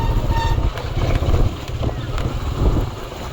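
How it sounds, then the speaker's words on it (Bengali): An intercity train rumbles past nearby, a steady low roar with wheel clatter and wind buffeting throughout. "আন্তনগর ট্রেন যাইতেছে এখন।"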